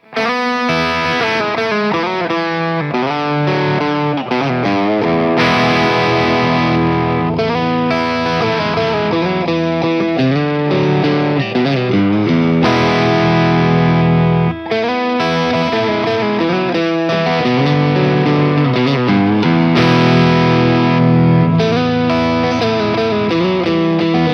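An Eastman Fullertone electric guitar played through its bridge pickup with drive and all controls wide open, with loud, continuous distorted chords and riffs ringing steadily throughout without any talking.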